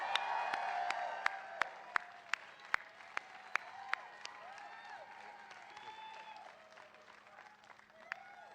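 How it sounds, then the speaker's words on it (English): A political rally crowd in Selma, North Carolina claps and cheers, with sharp individual claps early on and a roomy, sustained wash of applause, whoops and voices mixed in. "Let's give Don a round of applause."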